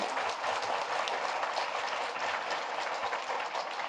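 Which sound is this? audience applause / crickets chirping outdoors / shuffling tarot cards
audience applause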